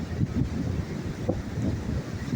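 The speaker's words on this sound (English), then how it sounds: "Pretty damn windy." Strong wind gusts buffet the microphone on Crystal Pier, a seaside pier in San Diego, in a low, rumbling roar, with a faint wash of water in the background.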